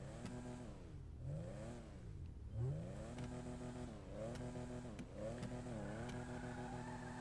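A Coquette Classic sports classic in GTA Online revs its engine over and over, its pitch swelling and falling in repeated climbs. The engine sounds close and loud, with no talking.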